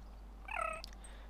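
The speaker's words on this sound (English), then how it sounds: "How can a rat do that to a cat? Sounds in agony, poor thing." A cat cries out in agony while being attacked by a rat: one short, strained yowl of about a third of a second, fairly close and loud over a quiet room, with no talking.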